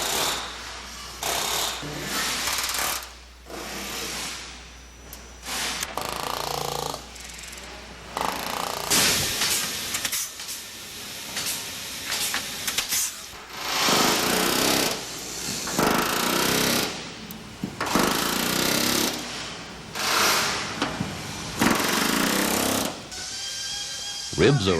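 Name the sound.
riveting an Airstream travel trailer body at the factory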